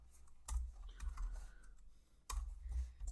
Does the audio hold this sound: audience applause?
no